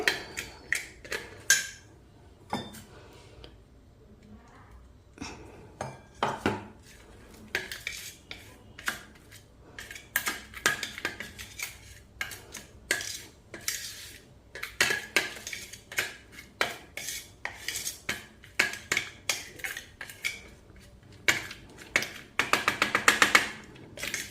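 A herbal leaf hair pack is mixed into black tea in a bowl, giving rapid, irregular clinks and taps of a spoon against the container in close, repeated bursts, with no talk.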